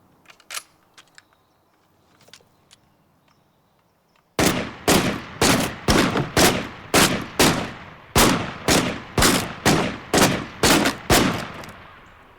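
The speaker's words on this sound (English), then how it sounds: "Nice shooting." Gunfire in a steady series of about fifteen loud, sharp shots spaced roughly half a second apart, starting abruptly after a stretch of faint, scattered clicks.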